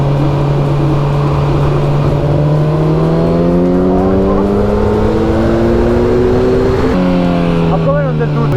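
A car at a small car meet accelerating hard out of a curve, its engine note climbing steadily under loud cabin noise, then dropping sharply at a gear change and pulling again, with people talking over it.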